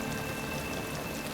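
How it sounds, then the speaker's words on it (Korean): Steady rain falls on a real cemetery in Brooklyn during a wet-day film shoot, with extra water sprayed from a water truck, making a dense, even hiss of drops that stays constant throughout without any voices. "진짜 비가 오는 날에 살수차로 비를 더 뿌려가며 촬영했습니다."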